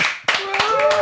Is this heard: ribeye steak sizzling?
no